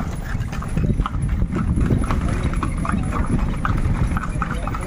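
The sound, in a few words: horse hooves clip-clopping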